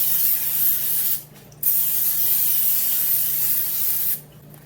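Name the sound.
non-stick cooking spray spraying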